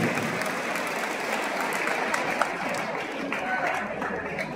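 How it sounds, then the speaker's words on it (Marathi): Sustained applause from a large seated audience at a public talk and book fair event, dense steady clapping filling the whole stretch at an even level, with some crowd murmur mixed in. "एकदा 2 टाळ्या तुमच्यासाठी."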